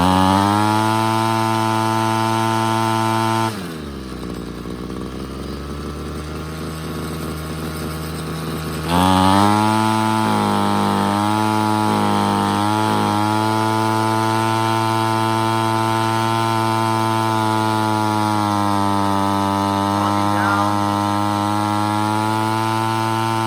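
A Ryobi CS26 string trimmer's small two-stroke engine runs steadily and loud, then bogs down into a rough, sputtering lull for several seconds before picking back up to a steady high drone.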